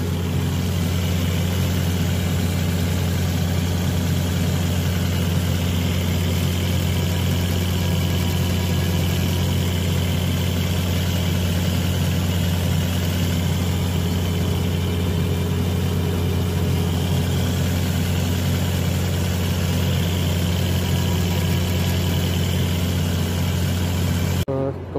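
A car engine idles steadily for the whole stretch, a constant low rumbling hum with mechanical clatter on top, close and loud with no breaks.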